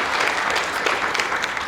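An audience applauds office administrative support staff, a brief, steady patter of many hands clapping together at moderate volume.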